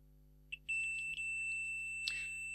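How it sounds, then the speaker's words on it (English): A multimeter's single steady continuity beep starts after a faint click and holds continuously, thin and high-pitched, fairly quiet against a soft hum, testing a 48K ZX Spectrum circuit. "I've got the multimeter here set up in continuity test mode, so you should hear it beep"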